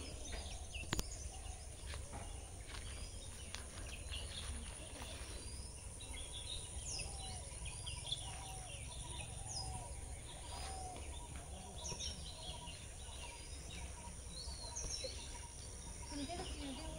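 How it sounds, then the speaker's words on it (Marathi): Birds chirp and twitter faintly outdoors by a tidal creek, with scattered short calls over a steady low rumble of wind and background noise. "पक्ष्यांचा किलबिलाट बा मस्त येतं."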